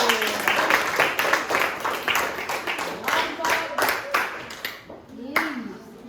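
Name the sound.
applause for a group of students in class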